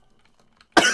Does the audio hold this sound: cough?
yes